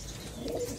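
Racing pigeons coo in a short, soft burst over a steady low background hum, close by and without voices.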